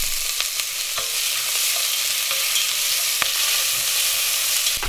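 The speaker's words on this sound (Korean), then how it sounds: "불은 되도록이면 센 불을 유지하시면서 고기가 충분히 표면이 갈색이 될 때까지 잘 볶아주시면 됩니다" Pork belly sizzles over high heat in a pot, a loud, dense crackle close by with scattered sharp spatters and scrapes of stirring, no voices.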